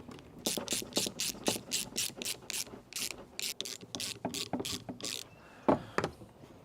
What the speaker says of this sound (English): Slide on our new gear. You can see how much easier that runs down the wire.